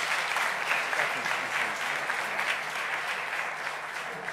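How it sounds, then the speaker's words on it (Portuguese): A church congregation at Sunday Eucharist gives a round of applause, dense and even clapping from many hands that holds steady throughout, near and fairly loud, with no talking over it. "E para o Afonso nós damos uma grande salva de palmas"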